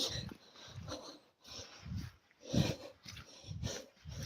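Dog during an evening forest walk, making a series of short, faint vocal bursts, whines and huffs, in an uneven rhythm with quiet gaps between them.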